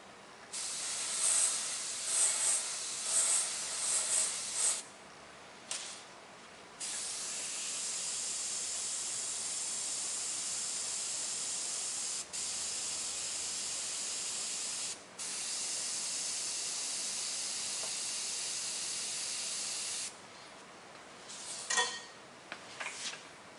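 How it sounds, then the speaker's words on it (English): An airbrush sprays black paint through a stencil for beginners, a steady close hiss in several long bursts separated by short pauses, with brief lighter puffs at the start and end. "I'm just going to airbrush the bottom half of the eye."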